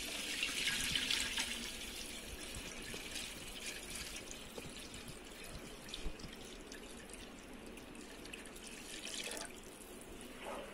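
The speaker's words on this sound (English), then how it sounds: "You can fill the water till the top." Tap water pours into a cooking pot for a chicken biryani, a soft continuous splashing rush that is strongest at the start and settles into a quieter steady flow, with no talking.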